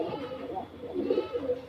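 Native domestic pigeons on a rooftop coo in low, soft, rolling bursts close by, with a faint background murmur that may include children's voices.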